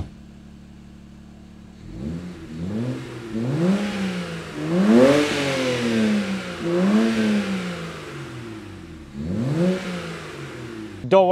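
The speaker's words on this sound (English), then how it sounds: "let's get a little rev in once it's warmed up" A warmed-up BMW 335i engine revs in several rising and falling bursts, idling steadily between blips, close and fairly loud with no talking.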